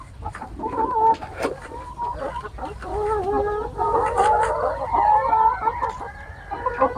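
A small backyard flock of about twenty laying hens clucks and murmurs nearby, overlapping calls rising and falling with one louder squawk and no talk.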